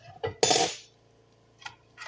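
Metal ladle clinking against the crock of a Crockpot slow cooker holding corned beef and cabbage soup, a few sharp knocks with one bright ringing clang, then a faint tap, close and alone.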